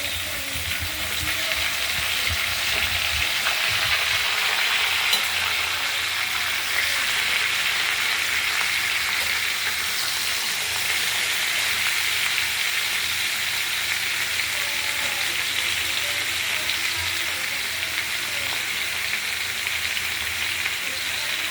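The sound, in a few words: vegetables frying in spice paste in a pan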